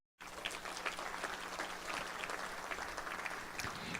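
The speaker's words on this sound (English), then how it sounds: "Round of applause for that." An audience at a chamber of commerce annual meeting gives a round of applause, a moderate, fairly distant wash of clapping that starts suddenly and carries on evenly for about four seconds in a large room.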